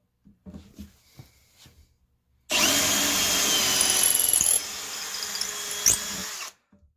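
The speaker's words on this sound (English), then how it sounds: "I'm going to apply some more pressure to it, like you would when you're normally drilling" After some quiet clatter, a power drill starts and bores steadily for about four seconds with slight grinding changes, loud and close, then stops.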